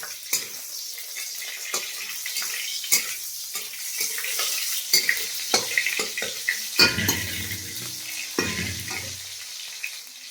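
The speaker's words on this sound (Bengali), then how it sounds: "এটা একটু ভালো করে ভাজা হয়ে যায়।" A fish head with spinach and green chilies sizzles steadily in a pan, broken by repeated scrapes and clinks of a spoon stirring against the metal, with a couple of louder sputtering bursts near the end.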